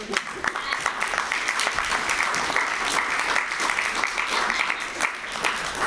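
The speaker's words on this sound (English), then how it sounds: "Thank you for clapping when I clapped." Audience applause at an improv comedy show, dense and continuous clapping from a live crowd that stays steady and fairly loud throughout.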